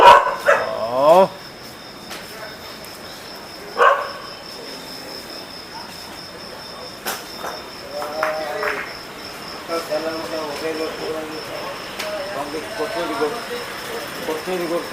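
Several dogs bark outdoors in short bursts, loudest at the start and again near four seconds, then fainter barks later. Insects chirp steadily in the background and distant voices are heard.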